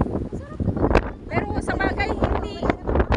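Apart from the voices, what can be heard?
wind blowing outdoors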